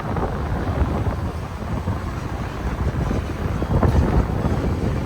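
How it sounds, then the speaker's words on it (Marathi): Strong gusting wind buffets outdoors in light rain, a continuous rough roar that swells and dips, with no voices. "थोडा थोडा पाऊस पडतोय पण वारा जोरात आहे."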